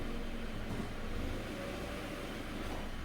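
A 2012 Subaru Impreza engine idles steadily in drive, a low continuous rumble with a faint hum, heard alone at moderate level throughout.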